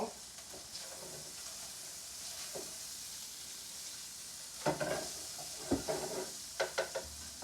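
Fried rice sizzles quietly in a pan under a soft, steady hiss, then several bursts of stirring and spatula scraping clatter in quick succession near the end.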